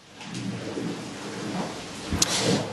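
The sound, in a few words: heavy rain and thunder during Sydney flooding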